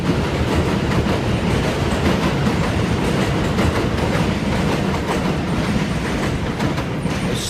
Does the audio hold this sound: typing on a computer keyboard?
no